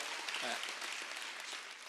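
Audience in a university lecture hall clapping, a continuous patter of applause with a brief voice heard over it early on.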